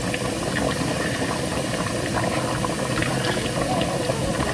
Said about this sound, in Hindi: ये देखिए हल्का हल्का ब्राउन हो रहा है हमारा तड़का।